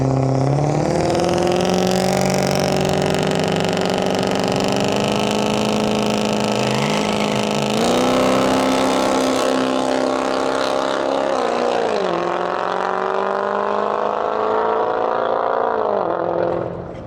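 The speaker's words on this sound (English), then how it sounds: "Trucks in the staging lanes, we're ready to make some passes." Race trucks making drag racing passes at Area 53 Raceway, a loud sustained engine roar with rising and dipping revs and layered exhaust tones that carries on for the whole stretch and fades slightly at the end.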